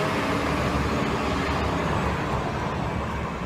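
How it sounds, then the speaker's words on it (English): A TriMet city bus passes on a Portland street, a broad, rumbling engine and road roar that stays loud and close for several seconds before easing slightly, with no talking. "I do not appreciate the TriMet bus trying to ruin my ending."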